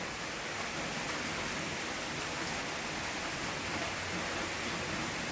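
Steady rain falling in Pune, a dense even hiss of drops that stays constant and fairly faint throughout, with no voices.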